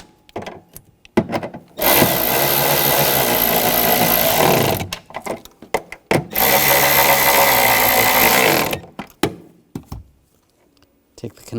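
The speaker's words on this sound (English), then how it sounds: "I'll snug these down." Power tool running on nuts that hold an outer tail light on a 2007-2013 BMW X5, two sustained loud whirring bursts of a few seconds each, separated by short clicks and handling noises.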